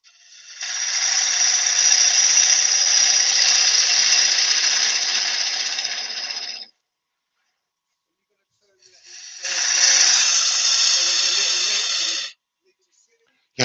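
A bowl gouge cuts spinning wood on a lathe in two long hissing bursts, the first lasting about six seconds and the second shorter, with a silent pause between them.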